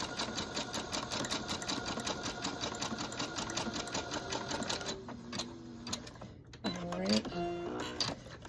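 A sewing machine zigzag-stitches an elastic band with a rapid, even mechanical chatter for about five seconds. The chatter then stops and a voice speaks.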